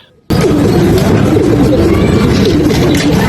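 A racing pigeon arrives at the loft on a flight from Pio Duran, Albay to Novaliches, cooing close by with a steady dense bustle of birds throughout, after a brief quiet start.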